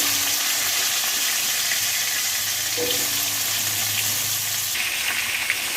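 Chunks of taro and potato fry in oil with a steady, dense sizzle that holds at an even level throughout, with no voices.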